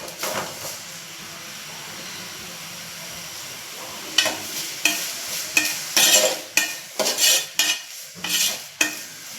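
Onions with turmeric and salt frying in a pan for shahi biryani: a steady sizzle at first, then a run of loud, rhythmic scraping stirs with a spoon, close up and with no talking.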